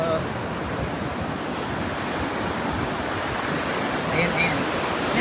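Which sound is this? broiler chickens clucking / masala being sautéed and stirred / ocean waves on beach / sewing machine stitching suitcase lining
ocean waves on beach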